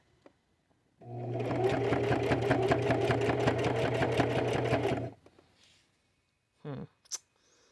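A sewing machine stitches fabric in one steady, close, whirring run of about four seconds with a rapid pulsing rhythm, preceded and followed by quiet, with a few brief handling noises afterward.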